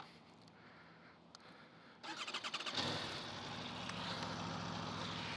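An Aprilia RSV4 motorcycle engine starts up and settles into a steady, loud exhaust rumble close by, with no voices.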